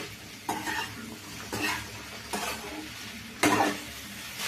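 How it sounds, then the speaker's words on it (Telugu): Okra being stirred in a pan over a high flame, with four distinct scraping sweeps over a steady low sizzle, close and moderately quiet, no talking. "బెండకాయని కొద్దిగా హై ఫ్లేమ్లో పెట్టుకొని హీట్ చేసుకోవాలి. ఇలా మనం బెండకాయని కలుపుతూ ఉండాలి."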